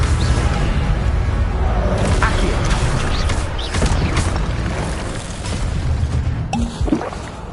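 Fire spell blasts in the PlayStation 5 game Hogwarts Legacy, a dense, loud booming roar with rumbling low end and bursts of crackle sustained throughout, alone with no talk.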